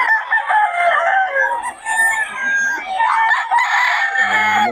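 Young gamecock stags, eleven months old, crow and cluck close by at a cockfighting market, several overlapping calls rising and breaking in quick succession.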